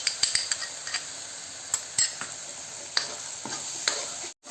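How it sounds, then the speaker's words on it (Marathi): Tomato puree sautéing in a pan while making palak paneer: a steady close sizzle, broken by frequent stirring scrapes and light clinks of a utensil against the pan. "आता इथे आपण टोमॅटोची प्युरी ॲड करून तीही छान परतून घ्यायची आहे."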